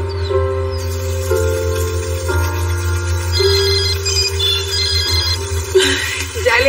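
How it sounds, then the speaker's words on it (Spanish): A telephone rings repeatedly with a bright electronic trill, loud and close, over a steady low hum in an indoor scene. "Ya le dije que se me disparó el teléfono"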